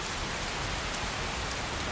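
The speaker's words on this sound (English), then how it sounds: "Rain, the storms, really awesome." Steady rain and stormy weather from the video game Skyrim, a dense continuous hiss of falling rain filling the whole stretch at even loudness, with no voices.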